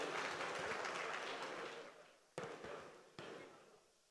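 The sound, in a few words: audience applause as a blessing at an event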